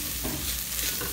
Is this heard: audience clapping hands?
no